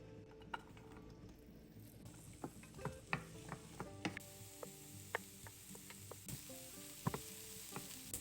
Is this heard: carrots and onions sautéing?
yes